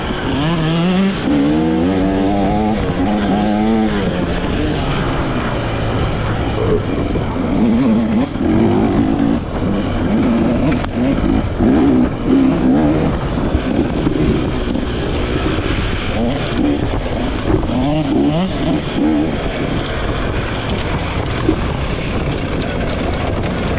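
A 2024 KTM XC-W dirt bike engine revs and drones continuously in a forest during a hare scramble race, rising and falling in pitch with wind rushing across the microphone.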